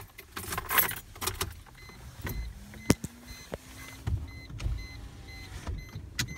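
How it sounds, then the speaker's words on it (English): Electric power window motor whirring steadily as a car window rolls up, a rising hum lasting a few seconds inside a parked car, with keys jangling and small clicks and knocks around it. "I need to roll the window up."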